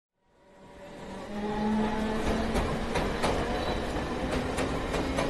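A train passing in a Tamil film scene rises out of silence into a loud, sustained rumble with rhythmic clickety-clack of wheels and faint squealing tones, close and steady to the end.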